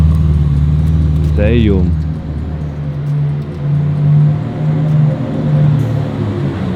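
Ferrari Comp Aperta and LaFerrari passing close, a loud rumbling engine drone with a brief rising whine, swelling and fading as people talk and exclaim over it.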